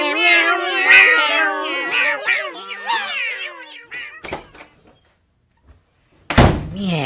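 Several people mimic a cat with their voices, a string of rapid, overlapping meows up close, followed by a hard door-like thump, a short silence, then a sudden loud burst.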